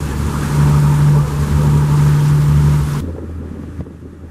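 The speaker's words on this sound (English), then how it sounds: "We're sailing along the shoreline of the region's famous Kekova island." A boat cruises along the rocky shoreline of Kekova island on Turkey's Lycian coast, a steady low engine drone with water and wind rushing past, loud and continuous before dropping off sharply near the end.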